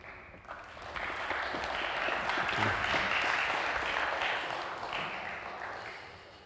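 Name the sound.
audience applause welcoming speaker on stage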